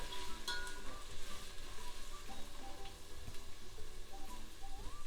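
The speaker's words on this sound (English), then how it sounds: "now you fry the onions till a very light golden color" Onions frying in a pan for turkey pies, a steady dense sizzle with crackling pops running throughout, close and fairly loud with no talking.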